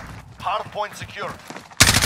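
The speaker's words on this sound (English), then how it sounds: "Taking fire!" Video game gunfire bursts in as a loud, dense volley over the last quarter second, following a stretch of radio-style voice chatter during a firefight.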